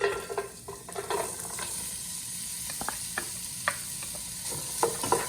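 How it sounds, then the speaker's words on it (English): Carrots, celery, onion and ginger sauteing in a pot over medium-high heat, a soft continuous sizzle broken by scattered clicks and scrapes of stirring, close and fairly quiet, with no voices. "just saute the carrots and the celery and the onion together along with the ginger for just about 5 minutes"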